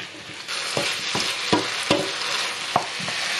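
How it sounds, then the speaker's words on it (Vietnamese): Meat and tomatoes stir-fried in a pan over medium heat, with a steady sizzle broken by several sharp scraping stirs of the utensil against the pan, close and clear. "Rồi xào cho đến khi thịt chín"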